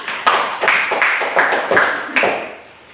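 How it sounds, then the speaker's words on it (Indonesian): Classroom students clap in a few loose bursts of rhythmic clapping at moderate loudness, fading out toward the end. "Tepuk tangan"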